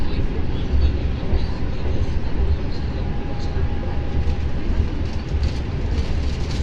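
An Argo Wilis passenger train runs straight through Kiaracondong station in Indonesia, a steady loud rumble of wheels and carriages throughout, heard from on board with faint voices mixed in.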